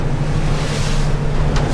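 Ocean waves and strong wind buffeting a fishing boat out at sea while chasing Spanish mackerel, a loud continuous rush of water and wind noise with no speech.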